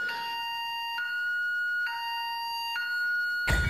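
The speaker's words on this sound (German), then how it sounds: "Das ist Alarmanlage." A car alarm system in the video game Altis Life (Arma 3) wails in a two-tone electronic siren, alternating pitch roughly every second, steady and clear, cut off by a sudden thump at the end.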